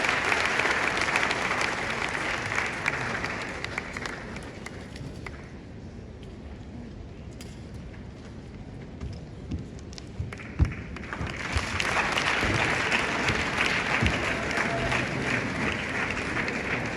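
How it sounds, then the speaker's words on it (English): A large audience at a product launch event in Ghana gives a loud, sustained round of applause for an arriving dignitary. The clapping eases briefly midway, then swells again to a full, dense ovation. "A round of applause for him as he joins us."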